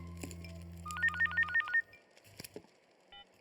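A telephone ringtone in a scene from the Hindi film Mirch: a short run of bright, evenly spaced electronic melodic tones rings out clearly over a quiet room, then stops, leaving faint small movements.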